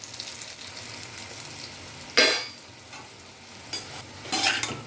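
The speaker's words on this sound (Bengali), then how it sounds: "ফোড়নটা হয়ে গেছে, তা আলুগুলো দিয়ে দেবো।" Potato cubes frying in a spiced tempering, stirred with a spoon: a steady low sizzle broken by a few loud scraping strokes, near and with no talk.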